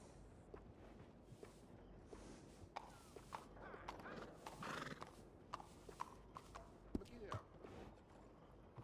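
A horse in the Red Dead Redemption 2 video game whinnies and clops its hooves in a steady walking rhythm, with game ambience beneath.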